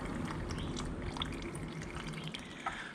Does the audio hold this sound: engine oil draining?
yes